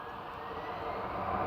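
Aer Lingus airliner at Manchester Airport, a steady broadband jet roar in the distance that slowly swells louder over the short stretch, with no talking.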